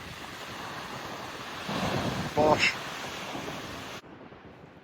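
Heavy ocean waves surging along the rocky Northumberland coast below Dunstanburgh Castle, with a continuous roar, rising wind buffeting the microphone, and a brief spoken exclamation over the swell.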